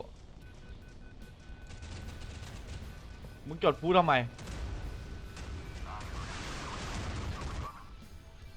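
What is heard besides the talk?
bomb explosions in Modern Warships video game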